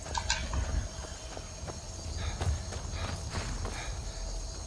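Horse hooves clip-clop steadily at a walking pace in Skyrim, the game with some ambient background, with scattered hoofbeats across the whole stretch and no talking.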